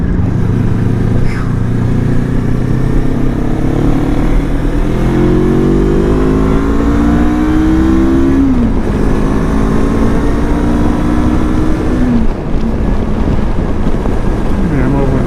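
A Lifan KPT 400 motorcycle fitted with a 43-tooth rear sprocket drones steadily under heavy wind rush while riding in hot weather, its engine pitch rising and falling through gear changes.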